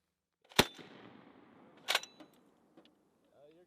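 Two sharp gunshots crack at an outdoor shooting range about a second apart, loud and close, each followed by a short echoing tail, with faint clicks and a brief voice afterward.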